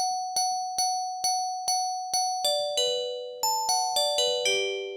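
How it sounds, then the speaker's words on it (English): A bright synthesized bell strikes in a steady repeating pattern, each ring decaying quickly, the pitch shifting as the notes step through a short melody. "So we've created a bell sound"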